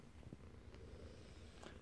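A domestic cat purrs softly and steadily at very low volume, a faint continuous rumble close by with no talk over it.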